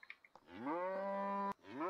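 A deer in DEEER Simulator lets out a long, loud cow-like moo, sustained and steady before cutting off abruptly, then a second moo begins, preceded by a few short soft clicks.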